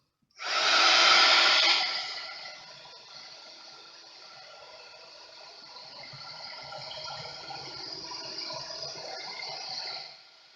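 A heat embossing tool blows hot air over a card sentiment, starting with a loud close whoosh, then settling into a steadier, softer rushing hum that runs for about ten seconds before cutting off, with no talking.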